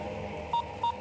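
Two short electronic telephone dialing tones, evenly spaced, ring out over a quiet low background hum in a Telugu action film scene.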